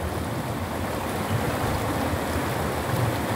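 Steady rushing of a river flowing outdoors, a continuous broadband wash with low rumble, close and moderately loud with no voices.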